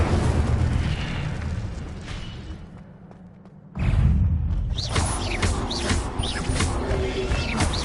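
Spell casting in a Harry Potter video game: a sudden loud burst of fire or energy cuts in after a quieter stretch, followed by crackling roaring effects and swooping whooshes.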